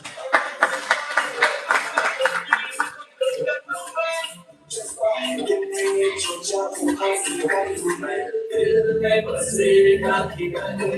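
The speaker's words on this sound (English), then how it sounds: "Round of applause, everybody." Scattered clapping at a university ceremony, a few seconds of moderate applause that gives way to talking voices and background sound.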